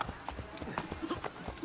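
Horse hooves clip-clop in a steady, moderately loud rhythm during a ride in Assassin's Creed Brotherhood on PS3, with speech over the game sound.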